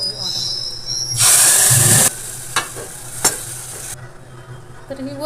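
Green moong dal hits hot oil tempered with mustard seeds, cumin and garlic, bursting into a loud, close sizzle that lasts about a second, then falls back to a low crackle with a few sharp clinks.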